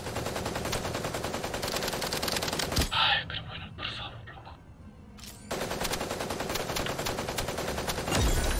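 Rapid automatic gunfire in Super Mecha Champions, loud dense bursts that break off briefly with a few scattered shots, then resume at full intensity.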